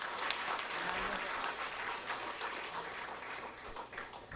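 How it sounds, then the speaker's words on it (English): A crowd applauds continuously, a dense, even clatter of many hands clapping at steady volume throughout. "let us give Arellano University School of Law a warm round of applause"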